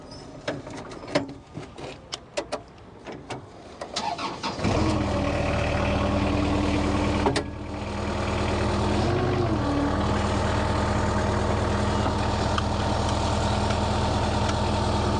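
Twin drum roller engine cranking after a few clunks and clicks, then catching and settling into a loud, steady diesel idle that continues to the end.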